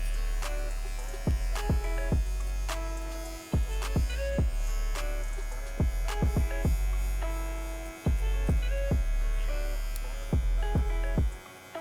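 An electric hair clipper with its lever moved up and down to blend a skin fade hums steadily and close, its motor pitch dipping briefly with each stroke through the hair, with no talking.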